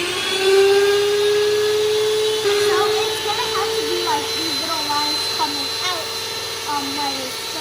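An electric hand mixer whirs steadily as it beats cake pop batter, its motor pitch wavering and dipping as the beaters work through the mix.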